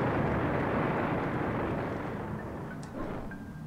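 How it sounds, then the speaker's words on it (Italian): A bomb blast in a video game erupts as a loud, broad roaring rumble that sustains and slowly fades over a few seconds, with no talking over it. "Piazza la bomba e scappa."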